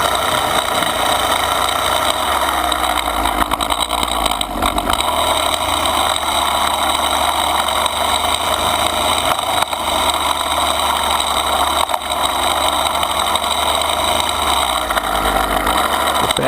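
A string trimmer runs without a break while cutting along a landscape edge, taking the top off the grass. Its steady, fairly loud motor whine holds throughout with small shifts in pitch.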